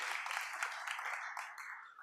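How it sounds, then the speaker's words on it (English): Audience clapping for singers at a college inauguration ceremony, a short dense patter of applause that holds steady and then tapers slightly, heard from within the hall. "Please have a huge round of applause."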